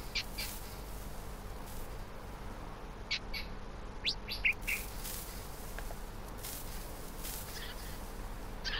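Minecraft parrots chirping in the game, scattered high tweets over a constant low hum, fairly faint and spread across the whole stretch.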